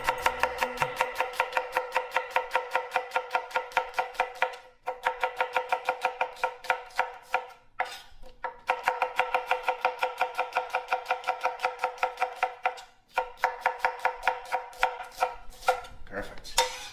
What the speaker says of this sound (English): We cut our onions